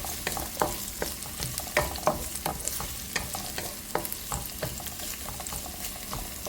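Garlic fries in a pan while being stirred, a steady close sizzle with frequent scraping taps of the utensil.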